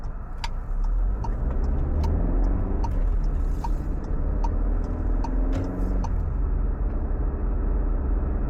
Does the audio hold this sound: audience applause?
no